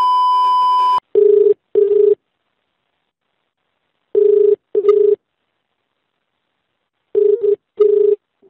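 A telephone ringback tone plays over the line as a call goes through, with paired ring bursts repeating three times at steady intervals and silence between them, clear and close.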